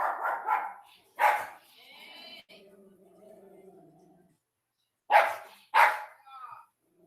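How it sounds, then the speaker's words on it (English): A dog barks in a few sharp, close bursts at the start and again near the end, with a stretch of quieter tonal whining or yipping in between during an online class call. "Yeah, but I can hear your dog fine."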